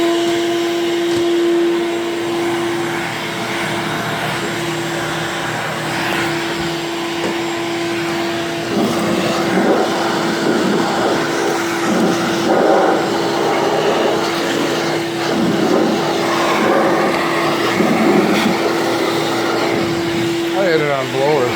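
An Audi B8 car's climate blower runs loudly, a steady close-up roar of rushing air with a low hum that holds throughout.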